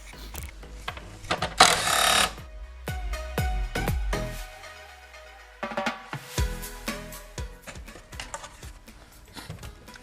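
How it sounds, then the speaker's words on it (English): Ratchet loosening 8mm bolts on the EGR of a 2010-2020 Dodge Cummins 6.7L diesel: a series of close, sharp metallic clicking bursts and clanks, with a brief pause midway before more ratcheting and handling clatter. "just simply remove the 8mm bolts"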